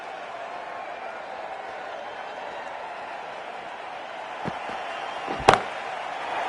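A single sharp crack of a cricket bat striking the ball hard during a tense match, standing out once above a steady murmuring crowd, with a softer knock just before it.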